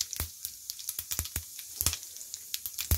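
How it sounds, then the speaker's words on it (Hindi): Mustard seeds and cumin hitting hot oil, a fast scatter of sharp crackles and pops with short bright bursts over a faint sizzle, close and moderately quiet. "ऑयल गरम होने के बाद 1/4 टेबलस्पून राई या सरसों,"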